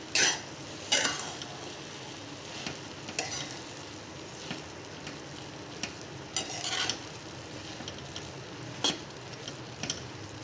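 Sweet rice with jaggery, raisins, almonds and cardamom is stirred in a pot over low heat, giving a few sparse scraping strokes spaced seconds apart against a quiet background hiss.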